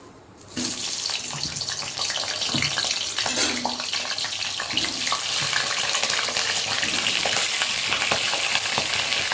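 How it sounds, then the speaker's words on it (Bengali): Potatoes dropped into hot oil in a wok, bursting into a loud, dense, hissing sizzle that holds steady and close for several seconds, with no talking. "এবার আমি আলুগুলো ভেজে নেব।"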